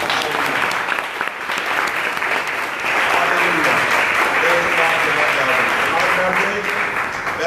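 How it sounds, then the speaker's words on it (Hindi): Congregation at a Friday prayer service applauds in a loud, dense, sustained wave of clapping lasting several seconds, with voices mingling underneath. "आपकी तालियां बताएंगे।"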